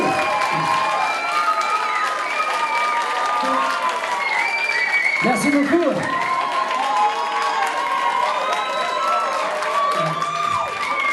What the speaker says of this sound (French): Applaudissez pas trop fort